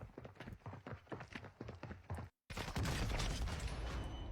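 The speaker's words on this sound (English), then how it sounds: "Listen, you can still hear the footsteps." Quick, evenly spaced footsteps in the video game Call of Duty Warzone tap along for about two seconds, then a brief silence gives way to a loud, dense burst of rapid gunfire-like noise.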